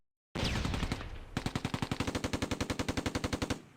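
Rapid automatic fire from a simulated 17-pounder anti-tank gun engagement against a Mark IV tank: a sustained burst, then a steady run of about twenty evenly spaced loud reports, close and unaccompanied.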